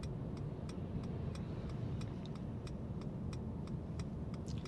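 A car's right turn signal ticks at an even, steady pace, faint and close inside the cabin over a low rumble of road and engine noise.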